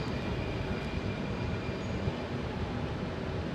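An Alstom Metropolis C830 metro train pulls into Serangoon station on Singapore's Circle Line, a steady loud rumble of wheels and motors with a faint high whine, filling the platform without pause.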